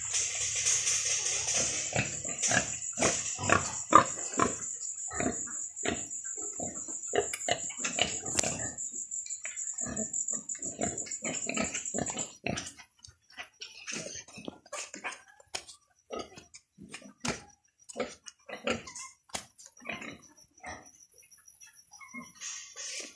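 Farm pigs grunt in short, irregular bursts close by over a high insect-like whine that fades partway through; the grunting keeps going, sparser, until the end.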